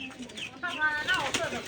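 Pigeons coo close by in a brief burst, and a faint rustle of wings can be heard among them.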